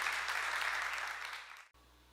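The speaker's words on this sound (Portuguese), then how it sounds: "Aplauda, Senhor." A short burst of audience applause at a youth workshop, dense clapping that fades out and cuts off abruptly after about a second and a half.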